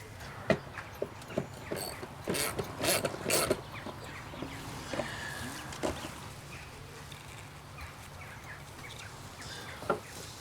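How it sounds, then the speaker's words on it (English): Bearings being pried out of an old skateboard wheel: a series of sharp metallic clicks and ratcheting clacks, clustered in the first few seconds, then sparser knocks, close and fairly quiet. "I'm going to take off a couple of bearings out of one wheel and see if they're the same size"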